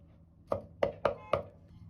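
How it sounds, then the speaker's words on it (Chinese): A cleaver chopping smashed garlic and ginger on a cutting board, four crisp, close knocks at an uneven pace in a quiet kitchen. "大蒜和生薑適量，先拍破再剁碎"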